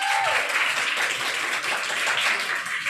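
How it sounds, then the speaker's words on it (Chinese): Applause from an audience at a celebration and awards night, a dense, even wash of clapping that holds steady for a few seconds. "来掌声"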